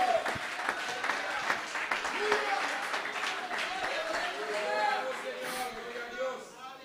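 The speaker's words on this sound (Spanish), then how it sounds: "Aplauda al Señor si lo cree." A church congregation applauds during a bilingual revival service, sustained clapping with cheers and a voice speaking over it.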